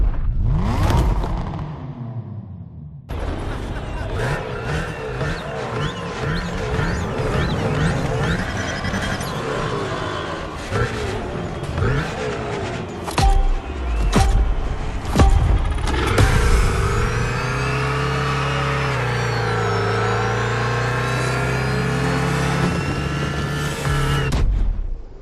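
Race start in The Crew Motorfest Hoonigan Grid Masters event, with a car engine revving and rising through gears, tires squealing and a whoosh, loud and continuous for over twenty seconds, with brief voice sounds mixed in.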